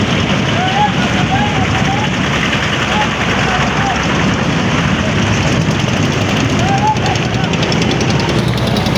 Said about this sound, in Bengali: আমার এই ডাইন সাইড একটা ট্রলার